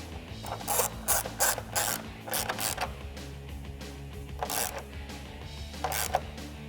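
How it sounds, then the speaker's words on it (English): A 1/4-inch drive ratchet tightens the plastic grille bolts on a 2015-2017 Ford F150, with repeated short bursts of clicking in uneven runs, close and loud, no voices. "I'm going to use my 1/4-inch drive ratchet to tighten them up."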